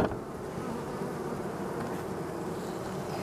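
Honey bees at an apiary hive make a dense, steady buzzing swarm drone, close and continuous throughout, with no voices.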